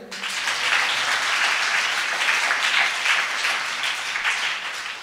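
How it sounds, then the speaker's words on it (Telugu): An audience at a Telugu stage performance breaks into steady, dense applause, a continuous loud patter of many hands that holds evenly for several seconds with no talking. "గట్టిగా చప్పట్లు కొట్టండి"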